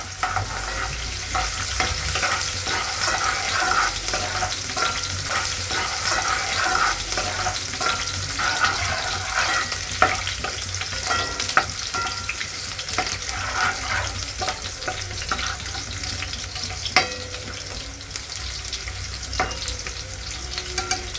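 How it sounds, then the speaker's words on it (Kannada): Garlic and green chillies frying steadily in a pan, a dense continuous sizzle with occasional stirring scrapes and clicks throughout, no voices. "ಬೆಳ್ಳುಳ್ಳಿ ಸೇರಿಸಿದ ತಕ್ಷಣ ಹಸಿರು ಮೆಣಸಿನ್ಕಾಯಿನೂ ಹಾಕೊತೀನಿ ಜೊತೆಗೆ. ಸ್ವಲ್ಪ ಕಲರ್ ಚೇಂಜ್ ಆಗೋವರೆಗೂ ಫ್ರೈ ಆಗಬೇಕು."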